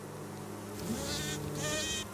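A honeybee queen inside the hive gives off a high, tonal piping buzz in two short bursts, each layered over a steady low hum of the colony.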